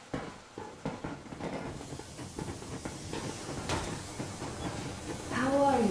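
Steam locomotive from the Metro Exodus video game pulling away, a steady hiss and rumble building over several seconds with a sharp whistle-like tone near the end.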